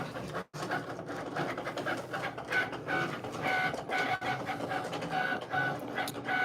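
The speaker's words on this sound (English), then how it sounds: "while my vinyl cutter is cutting" A Cricut Explore Air 2 vinyl cutter runs steadily, its carriage whirring and buzzing continuously in a room with a brief drop near the start, the motor tone wavering as the blade moves.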